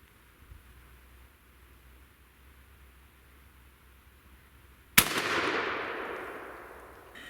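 Shotgun firing a 2 3/4 inch Winchester number 8 shot load outdoors at a 40-yard target, a single loud blast after several seconds of quiet, followed by a long fading echo.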